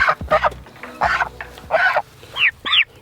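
Young turkeys handled during wing clipping, giving a close, loud run of clucks and squawky calls in irregular bursts, ending in two higher-pitched cries.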